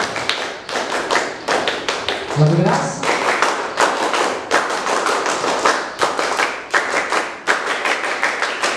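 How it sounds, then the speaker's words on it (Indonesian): Scout group doing a rhythmic Pramuka clap at a school ceremony, sharp hand claps in quick patterned bursts repeated across the clip, with a voice briefly calling out amid the claps. "Untuk mempererat suasana, 3 kali tepuk Pramuka."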